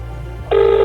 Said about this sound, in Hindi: एक सेकंड भैया का फोन लगाते हैं।